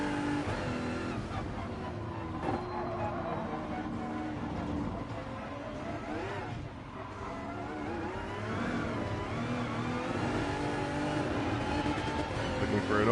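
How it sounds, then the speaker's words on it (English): Vision GT race car engines in a Gran Turismo Sport endurance race at the Nürburgring GP circuit, a continuous high engine whine and drone with shifting pitch, under a voice talking. "You can hear the whine of those Vision GTs"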